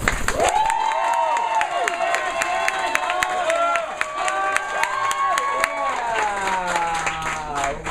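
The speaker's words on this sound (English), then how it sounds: "A lot of applause and a hell yeah." A theater audience applauds and cheers loudly and steadily throughout, with whoops and shouts rising above the continuous clapping.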